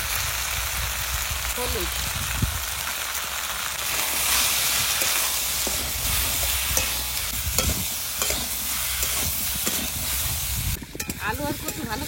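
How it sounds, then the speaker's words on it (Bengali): Taro and potatoes fry in oil in a pan with salt and turmeric, a steady close sizzle broken by repeated scraping stirs; a voice speaks briefly over it. "এবার সবজিগুলো ভালো করে ভেজে নেবো"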